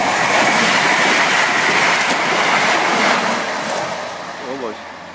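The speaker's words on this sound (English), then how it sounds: "There's a train coming in the opposite direction." A train rumbles past at Kildwick level crossing on the line toward Carlisle, a loud, broad, steady roar of wheels and carriages close by that eases off toward the end.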